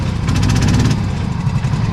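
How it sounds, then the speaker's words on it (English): A Cushman Truckster engine, rebuilt with much higher compression, idles at a steady, quiet pace, a close, even low rumble with a light mechanical patter running throughout. "See, it's idling right now. It's actually really quiet, as you can hear."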